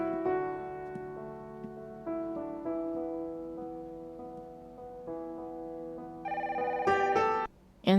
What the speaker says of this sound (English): And there's a phone call.